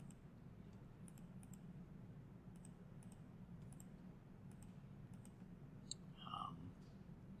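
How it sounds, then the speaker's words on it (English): Calculator keys are pressed in a quiet room, a handful of faint, sharp clicks spaced irregularly in short bursts, with no talk. "or how about just get a calculator out?"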